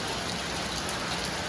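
Heavy rain pours onto a rooftop garden of roses, garlic and jasmine in Thiruvithancode, a loud, unbroken hiss of drops that stays constant throughout with no voices.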